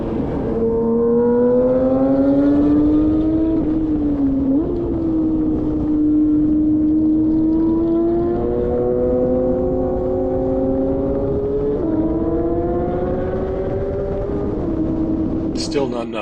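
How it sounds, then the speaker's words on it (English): A Porsche 992 GT3 with a modified rear exhaust runs loud and close with a sustained high engine note that rises gradually, dips and climbs again across several long pulls, ending in a sharp crackle. "let's listen to a 992 GT3 with a modified rear exhaust"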